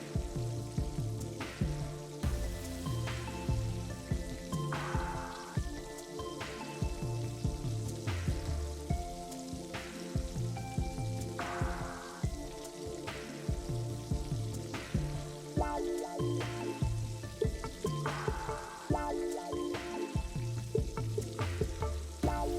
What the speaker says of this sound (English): That sizzling sound is what you want to hear. It means these are getting crispified.